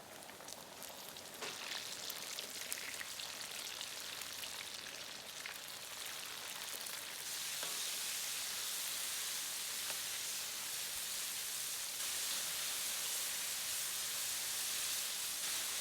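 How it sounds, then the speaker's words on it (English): Shrimp coated in cornstarch deep-fry in hot oil for salt and pepper shrimp, a dense continuous hiss of bubbling oil that swells slightly louder partway through, steady and close with no talking. "Deep fry the shrimp for about 4 to 5 minutes."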